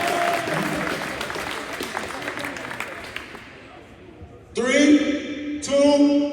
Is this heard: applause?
yes